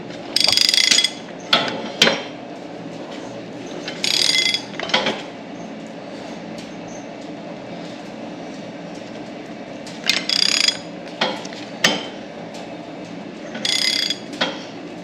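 A torque wrench fitted with a torque adapter ratchets while tightening on a Dana 80 rear axle of a Kaiser M715. Loud bursts of close clicking come in short repeated strokes separated by pauses, with no talk.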